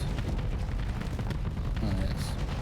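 Vulcan cannons fire in a space battle in the video game Starsector, a rapid, constant rattle of shots that blends into rumbling booms, loud and unbroken.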